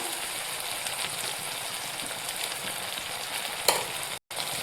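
Sliced onion and tomato sauté in a pan with chili powder for a crab curry, a steady close sizzle with light stirring, a brief sharp tap near the end, then a short gap.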